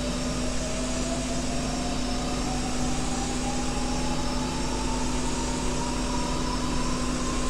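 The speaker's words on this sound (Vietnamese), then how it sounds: "Có thể thấy vòng tua của động cơ đang tăng dần." MiG-21 jet engine spooling up with revs rising, a constant loud roar under a whine that climbs slowly and steadily in pitch, with no talking.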